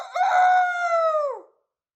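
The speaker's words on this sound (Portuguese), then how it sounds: "O galo cantou." A rooster gives a single loud, clear crow, rising and then holding before it trails off and falls abruptly into silence.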